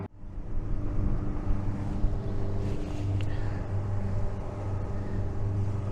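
Motorboat cruising across Lake Nipigon with the camera mounted on the bow, a steady loud engine drone with wind rushing over the microphone and water hissing along the hull.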